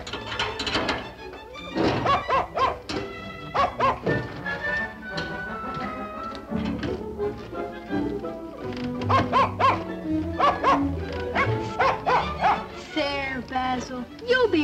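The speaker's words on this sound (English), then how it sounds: "Hasn't anyone let that poor dog out of its crate yet?" A dog shut in a crate barks repeatedly and whimpers in bursts, fairly close, while people talk over it in a dramatic indoor scene.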